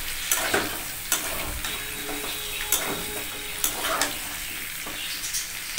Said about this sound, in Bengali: কড়াইতে কিন্তু আমি ক্যাপসিকাম আর পেঁয়াজ দিয়ে দিলাম এই দুটোকেই কিন্তু আমি একসাথে খুব হালকা ভেজে নেব